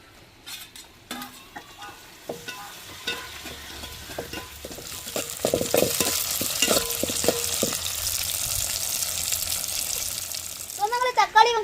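Tomatoes, onion and green chilli sautéing in a pan for a crab gravy. A few spoon clinks at first, then a loud, steady sizzle, with scattered stirring taps and a brief clatter near the end.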